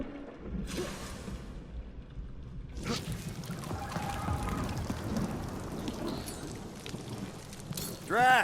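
Storm rain from the video game Guardians of the Galaxy pours steadily throughout, a dense hiss of heavy downpour that thickens after the first few seconds and swells at the very end.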